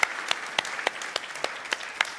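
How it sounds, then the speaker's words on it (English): Scattered applause from a small audience honoring a man named Ian for fasting during Ramadan at a leadership conference, with distinct individual claps spaced irregularly across a couple of seconds, fairly faint and without talking. "So can we give a round of applause for Ian for fasting this year?"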